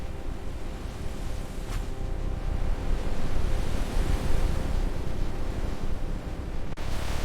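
Steady ocean waves and surf roll on continuously, a broad loud wash with wind noise mixed in, with no voices.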